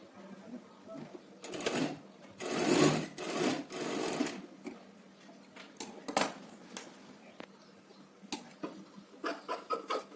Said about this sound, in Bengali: ওটাকে সেলাই করে নিতে হবে যাতে পিঠে না ফোটে